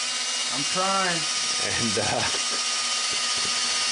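A power drill whines steadily as it bores a hole through an aluminum plate for a roof penetration, a continuous close mechanical hum with someone briefly talking over it.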